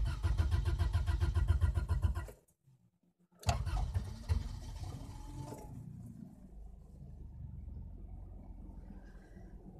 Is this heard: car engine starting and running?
yes